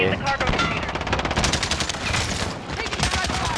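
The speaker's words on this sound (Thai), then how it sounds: "ขอฟังปืนครับ" Rapid machine-gun fire from Call of Duty: Modern Warfare rattles continuously in dense, loud automatic bursts, with a brief lull before the shooting resumes.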